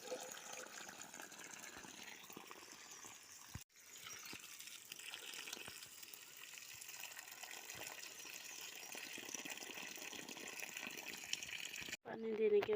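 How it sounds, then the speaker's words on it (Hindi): Water pours from a pipe into a channel in a garden bed, giving a faint, steady gushing trickle that continues throughout, with a brief break partway through. "एक जगह ही पाइप रखो और पानी पूरी नाली में,"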